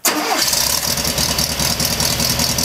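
A flat-four car engine cranks and catches, then settles into a loud, rumbling, slightly uneven idle with a rhythmic low throb.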